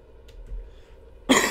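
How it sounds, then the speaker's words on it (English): A single short cough bursts out near the end, close to the mic, after a quiet stretch of low engine-like hum while the person plays a boat-driving game. "Sorry if my coughing is getting worse throughout the video."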